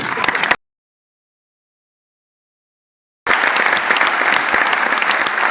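An audience at a motivational talk bursts into loud, dense applause; a short burst cuts off into silence, then a second sustained round of clapping resumes and continues to the end.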